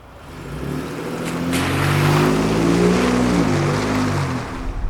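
A Ford Raptor pickup truck engine drones and builds as it drives, a steady low rumble with road and wind noise, no voices.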